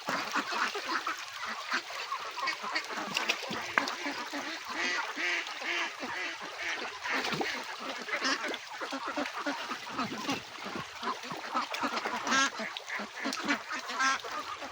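Domestic ducks splashing and bathing in a shallow stream after feeding on banana stalks, quacking and honking in a busy, continuous flock chorus close by, with water sounds and a faint voice now and then.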